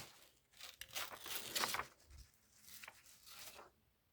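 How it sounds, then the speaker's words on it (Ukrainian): Close, quiet crinkling and tearing of a thin plastic packet holding a stress-relief toy, with a few sharp rips and rustles. "І відчиняємо наш пакетик"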